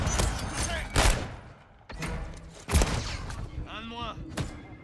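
Grenade launcher shots in Warzone, a few sharp gunfire bursts spread over a few seconds amid busy game noise, with a brief whining mechanical sweep near the end and no talk.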